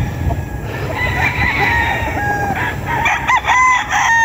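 Chickens and roosters in a coop, with crowing and clucking from several birds overlapping in a busy, fairly close chorus over steady background noise.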